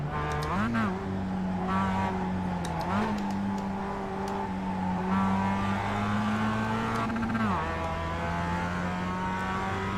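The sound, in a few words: racing video game car engine revving and downshifting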